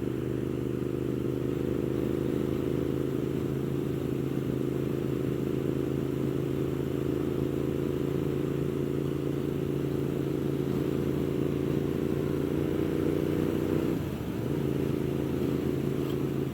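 A 2015 Moto Guzzi V7 mk2 750cc motorcycle cruising steadily at road speed, its engine a constant low drone with wind and road noise, briefly dipping near the end.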